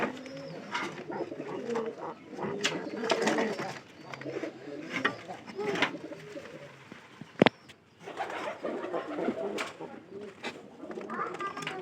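A pigeon coos in repeated soft, low phrases, fairly quiet and close, with pauses between bursts and a sharp knock partway through.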